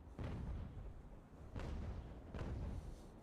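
Naval cannons fire in the video game Ultimate General: American Revolution, three heavy booms spaced about a second apart, each a loud low thud with a rumbling tail.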